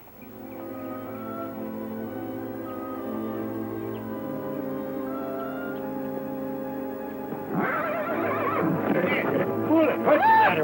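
A horse neighs in an old Western television episode, a long whinny that breaks into louder, agitated snorting cries near the end, with some music or voice mixed underneath.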